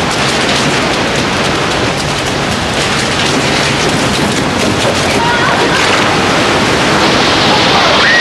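Water gushes steadily through a rain pipe in a loud, continuous broadband rush that never lets up, with voices speaking faintly underneath.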